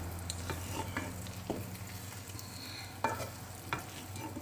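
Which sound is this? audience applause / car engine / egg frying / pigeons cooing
egg frying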